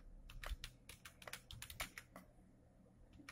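Clicky keystrokes on a computer keyboard come in a quick irregular burst and then fade off, faint and close with no other sounds.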